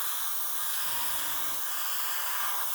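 An airbrush sprays acrylic paint thinned with Acrylic Doctor onto plastic, giving a steady, close hiss with a brief low rumble partway through.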